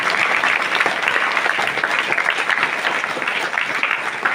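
A church congregation claps loudly and steadily at a Hindi-language healing prayer gathering, a dense, continuous wash of applause filling the space with no voices over it.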